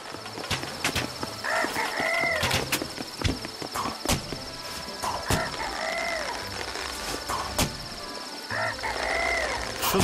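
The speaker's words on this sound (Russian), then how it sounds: "Что там за петушара?" A rooster crows in the Trine 2 video game, sounding three times at a steady spacing within a busy game soundscape of thumps and clicks.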